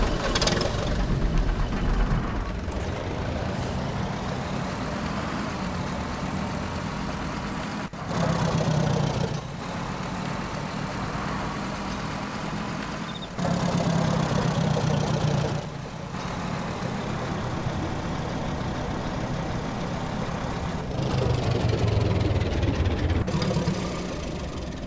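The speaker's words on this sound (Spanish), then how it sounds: "Voy a subir al tractor." A tractor engine idles in the DayZ video game, a steady, loud low mechanical rumble running throughout, swelling briefly louder several times, with no talk over it.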